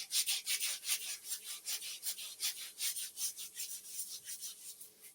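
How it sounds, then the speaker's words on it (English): A scrub is rubbed briskly over skin, giving a steady run of rhythmic rasping strokes, close and fairly loud, with no talking. "Now I'm just gonna give myself a good scrub with this."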